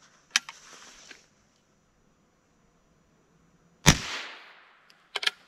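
A .22 LR rifle with a 24-inch barrel fires CCI Velocitor rounds outdoors: two sharp cracks, a faint one early and a louder one midway, followed by a quick double report near the end.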